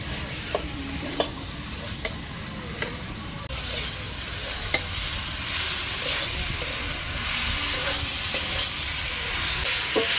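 Chicken curry meat is sautéed in a pot, with a steady sizzle and hiss under regular sharp clicks and scrapes of a spoon stirring against the pan, and no talking.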